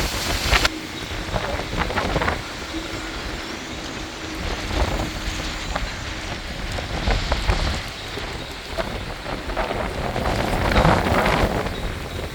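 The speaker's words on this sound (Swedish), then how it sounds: "Det blåser från väst." Westerly wind blows steadily in a broad, rushing wash at a winter marina in Marina di Ragusa, with scattered patter and thumps mixed in, continuous and fairly loud throughout.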